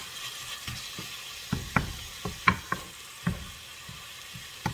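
Ground meat for shepherd's pie browning in a pan, a quiet steady sizzle broken by several sharp clacks and scrapes of a utensil stirring against the pan.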